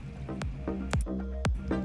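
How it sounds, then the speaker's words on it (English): Adobo marinade sauce is poured into a cooking pot, making a run of wet glugging splashes and drips at an uneven rhythm over a steady low background hum. "Pour the marinade sauce."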